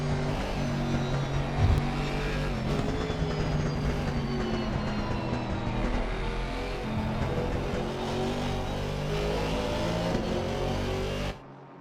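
A Mercedes race car engine on a flying lap of the Nordschleife in a racing video game, a continuous loud drone with shifting harmonic whine as revs rise and fall through gears, close-up and uninterrupted until it cuts off.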